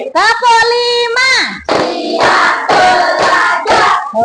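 A primary-school class of fifth graders claps hands in a steady counted rhythm, the sharp claps blended under loud children's voices chanting together throughout.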